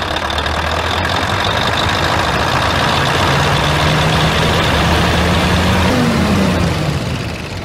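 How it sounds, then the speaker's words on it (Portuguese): A generator set's combustion engine runs steadily and loudly close by, a constant low idling rumble with a faint rising whine near the end. "Temos aqui, pessoal, o nosso grupo gerador"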